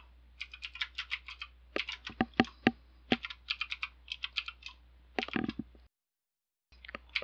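Commands typed on a computer keyboard at a Cisco switch configuration session, heard as bursts of close, crisp key clicks in uneven runs with short pauses, alone without talk, ending in a brief silence before more keys.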